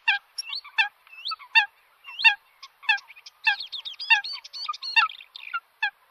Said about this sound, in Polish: Dolina Nidy obfituje w różne gatunki ptaków.